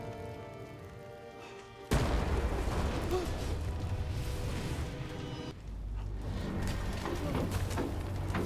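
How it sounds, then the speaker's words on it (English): Explosions in The Quarry video game: a sudden loud blast lands after a quiet stretch, followed by sustained roaring, crackling rumble with a second surge midway, heard alone without talk. "Explosions."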